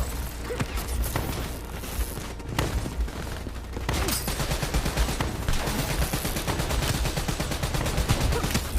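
Gunfire in Call of Duty Black Ops 3: dense, loud bursts of automatic weapons fire and rapid overlapping shots, continuing almost without a break.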